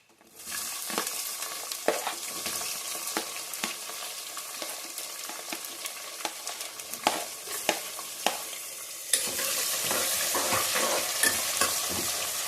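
Chopped onions and green chillies sizzle in a hot pan while a spatula stirs and scrapes in irregular knocks, the frying growing louder and denser toward the end; no talking.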